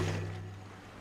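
Steady rushing water of a waterfall in Zelda: Tears of the Kingdom, near Zora's Domain, a continuous even wash of noise over a low sustained hum, holding level throughout.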